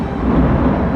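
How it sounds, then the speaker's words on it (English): Thunder rolls as a low, continuous rumble in the mountains around Nainital in India, steady and fairly loud with no other sounds over it. "and thundering."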